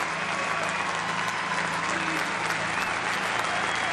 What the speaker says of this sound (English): They are out of their seats at Parramatta Stadium applauding Jared Hayne.